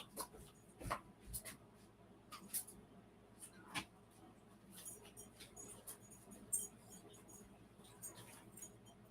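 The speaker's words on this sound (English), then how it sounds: "My dog's over here trying to tear up my floor covering." A dog scratches and tears at a floor covering indoors, producing faint, irregular scraping and scuffling bursts scattered throughout, quiet and close.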